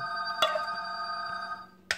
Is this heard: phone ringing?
yes